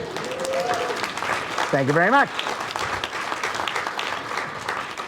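Keynote audience at a manufacturing conference breaks into clapping that fills the room, with a voice speaking over it and a brief sung or hummed phrase midway.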